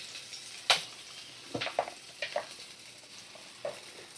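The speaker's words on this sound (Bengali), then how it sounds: "পেঁয়াজটা একটু ভালো করে ভাজা করে নেব" Chopped onions fry with black cumin in a pan over a medium flame, giving a faint low sizzle broken by a few sharp spatula scrapes and stirring knocks, with no talk.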